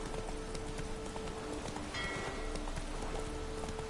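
Roach the horse trotting in the video game Witcher 3 near Novigrad, a steady rhythmic clip-clop of hooves under a wash of rain and ambient game sound, with no speech.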